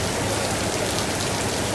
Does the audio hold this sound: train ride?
no